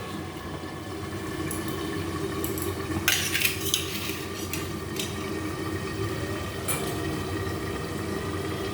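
Metal lid clatters and clinks onto a pot of boiling vegetable stalks in a home kitchen, a short burst of rattling contact then a couple of lighter taps, over a steady low simmering hum.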